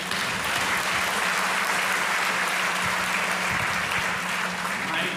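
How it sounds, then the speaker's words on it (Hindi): Loud, sustained audience applause fills a large Kolkata hall during a live talk show, a dense steady roar of many hands clapping at once with no voices over it. "इतनी जबरदस्त तालियां"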